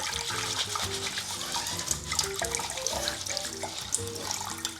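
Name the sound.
washing grains in water from a kitchen tap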